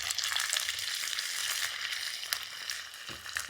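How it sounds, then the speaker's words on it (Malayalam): Ginger frying in hot oil with mustard seeds and fenugreek for Kerala-style chicken pickle, a dense crackling sizzle that stays steady throughout with a few soft stirring knocks, close and fairly loud, no talk. "നമ്മുടെ ഓയിൽ നന്നായിട്ട് ചൂടായി വന്നിട്ടുണ്ട് ഇനി നമുക്ക് കടുക് ഇട്ട് കൊടുക്കാം നമുക്കിനി ഉലുവ ഇട്ട് കൊടുക്കാം ആവശ്യത്തിന് ഇഞ്ചി ഇട്ട് കൊടുക്കാം"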